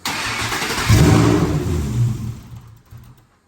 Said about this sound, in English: All right, this should be our first fire up, and let's hope it cranks.